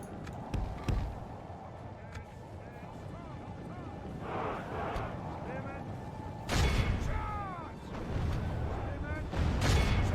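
Catapults in the Medieval 2: Total War video game launch with a few booming thuds over dense battlefield noise of galloping hooves and shouting troops, moderately loud.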